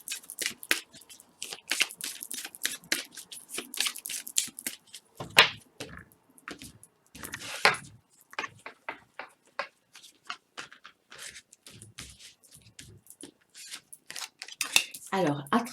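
Crystal oracle cards shuffled and drawn for a three-card reading, giving close, crisp flicks and riffling snaps in quick bursts with short pauses, mixed with light handling noise and some talk.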